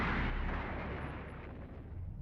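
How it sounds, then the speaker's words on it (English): Buu's angry explosion super attack in the Dragon Ball The Breakers video game, a loud, sustained roaring blast with dense rumble throughout, no talk. "That's the angry explosion."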